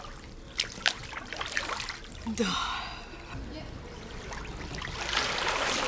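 Open ocean water washing and splashing steadily around a swimmer, a broad, constant rush with occasional splashes, and someone speaking briefly over it.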